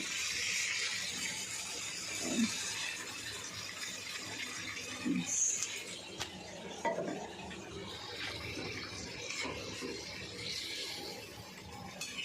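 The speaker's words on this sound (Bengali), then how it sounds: "এবার আমি হালকা একটু জল দিতে, বেশি দেবো না" A little water poured into a pan of spiced pumpkin and fish-head curry, a soft hissing splash and gentle stirring with faint clinks of a utensil against the pot, quiet and close.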